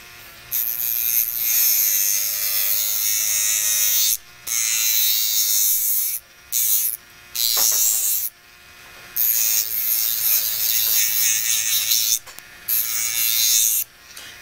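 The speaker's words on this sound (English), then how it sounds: "So when I'm filing it, I'm just basically going right along the edge" An acrylic nail tip is filed along its edge, giving close, raspy, repeated scratching strokes in bursts with brief pauses and no talking.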